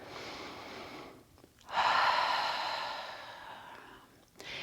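Slow, audible breathing during a seated yoga staff pose: a long, soft exhale, a pause, then a deep, fuller inhale-exhale swelling close to the microphone before tapering off.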